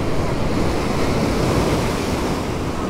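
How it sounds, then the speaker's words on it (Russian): Loud, close surf from a violent storm rushing and crashing on the shore at Cape Fiolent, Crimea, in a continuous wash of water noise, with no voices. "Просто волны."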